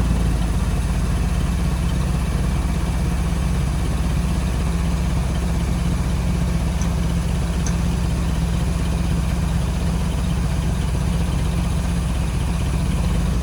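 A restored Jeep CJ7 engine runs steadily at idle, a loud, constant low rumble close by with no revving surges and no talking over it.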